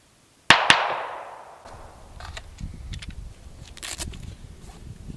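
One sharp, loud unsuppressed gunshot from a Glock 34 firing 9mm 147 grain subsonic rounds cracks out at an outdoor range, followed by a quick metallic ring and a fading tail, then light rustling.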